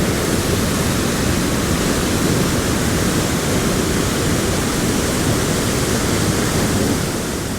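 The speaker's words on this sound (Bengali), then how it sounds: "বাবা, এত সুন্দর জলপ্রপাত, তো সব জায়গাকে হার মানাবে।" A waterfall near Dhanbad pours out a steady, dense roar of rushing water that fills the whole stretch evenly, loud and unbroken, with no speech.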